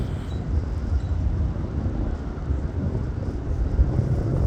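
Strong wind gusting at Manchester Airport in October 2022, a steady, close buffeting roar across the microphone with low rumbling gusts and no voices.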